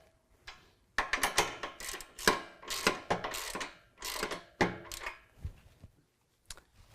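A ratchet wrench tightens three flange nuts on a step bracket of a 2019 Ram 1500, with rapid clicking bursts in several runs separated by short pauses, close up.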